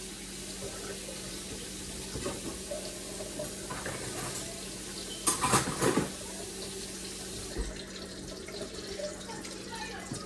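Food being washed under a running kitchen tap while making homemade Korean corn dogs, steady water flow into a sink with a burst of splashing midway.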